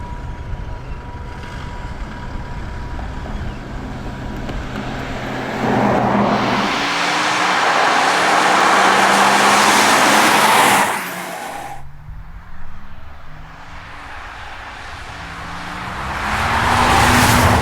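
An all-electric Porsche Taycan drives past with a smooth rising whine and rushing road and wind noise that swells loud around the middle, drops off, then builds again near the end.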